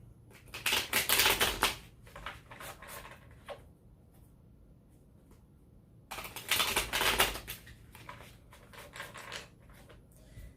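Tarot cards are shuffled in two crisp, rapid riffling bursts a few seconds apart, close and fairly quiet, with near silence between them.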